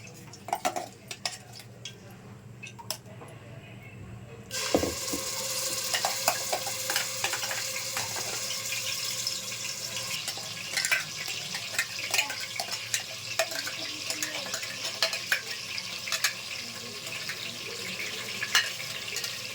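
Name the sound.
onion tomato green chili paste frying in oil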